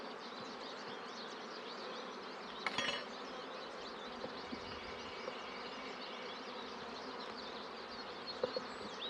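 Honeybees buzz steadily throughout a bee yard, a dense continuous drone of many insects at moderate level, with a couple of brief louder knocks or handling sounds partway through.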